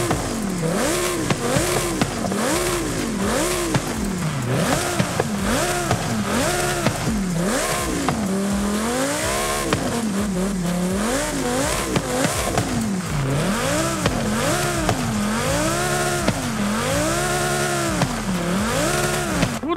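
Lamborghini Huracán STO V10 engine in Forza Horizon, revving repeatedly in rising and falling sweeps with the exhaust swapped, loud and continuous with no talk over it.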